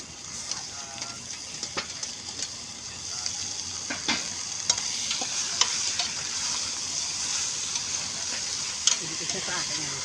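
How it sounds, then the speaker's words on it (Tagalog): Pork sizzles and fries steadily in a hot pan with ginger, garlic and onion for pork binagoongan, a continuous crackling hiss with scattered spatter pops and occasional stirring scrapes, while a voice talks faintly underneath. "Lagay ko na po ang ating pork."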